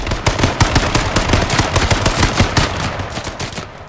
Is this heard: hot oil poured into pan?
no